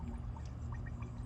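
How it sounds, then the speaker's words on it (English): Coolant gurgles faintly inside the engine of a 2013 Chrysler 200 while the radiator fill neck is being worked on, a soft liquid trickle and bubbling buried in a steady low rumble with a few small blips. "I'm hearing a lot of gurgling going on."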